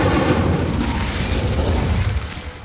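A fire spell cast in Hogwarts Legacy, a loud, sustained roaring whoosh with a booming low rumble that fades slightly at the end.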